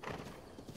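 Horse hooves clip-clop with a brief whinny in The Legend of Zelda: Breath of the Wild, a short, fairly close burst while a wild horse is mounted.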